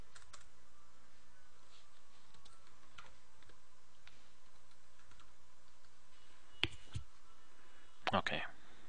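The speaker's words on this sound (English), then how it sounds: "now I just simply have to type SSH example" Someone types a command on a computer keyboard, a steady run of soft, close key taps ending in a few sharper clicks, with quiet room tone underneath.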